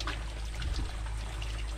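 Water gushes steadily from a makeshift farm faucet fitted with a sponge-gourd fiber plug, a continuous close, full-bodied pouring rush with no talking.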